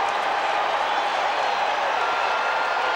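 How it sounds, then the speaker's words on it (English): Dense, steady crowd roar at Shea Stadium during a Major League Baseball game, a loud continuous wash of cheering with scattered clapping filling the whole stretch, no individual voices standing out. "this crowd came here to make some noise tonight"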